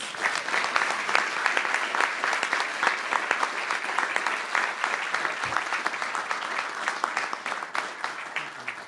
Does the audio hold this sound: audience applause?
yes